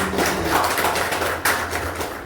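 An audience claps loudly and steadily for about two seconds, a dense wash of applause with no voices.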